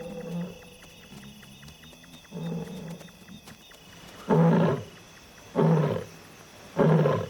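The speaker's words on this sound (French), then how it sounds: "Mais ce soir, le rugissement est plus fort et plus proche que d'habitude." A male big cat roars in repeated bursts at night, starting with a few softer calls and building to three loud, close, drawn-out roars spaced about a second apart.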